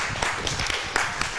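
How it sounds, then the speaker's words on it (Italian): An audience claps for a group of kids in a TV studio: a short burst of steady, dense applause with scattered sharper claps. "Bravi ragazzi, un applauso, fatevi un applauso."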